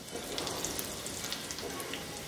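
Four cloves of chopped garlic fry in melted butter in a pan, giving a close, continuous crackling sizzle with small popping spits throughout.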